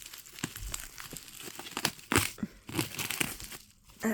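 Packing tape rips and crinkles as it is torn off a manga parcel, in a string of close, loud tearing and crumpling bursts with brief pauses between them.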